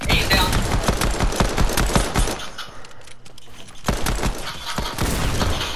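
Rapid automatic gunfire in a sniper-themed shooter video game rattles in dense, loud bursts, briefly pausing midway before the shooting resumes just as intensely.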